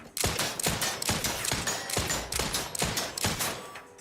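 Rapid bursts of gunfire in the video game The Outer Worlds 2, sharp repeated shots in quick succession over about four seconds, loud and close with no talk.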